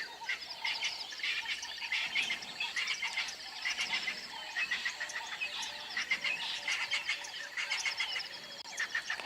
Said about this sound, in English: here a few of the ground birds that are not sounding as happy, but they are also very noisy with each other when they're being territorial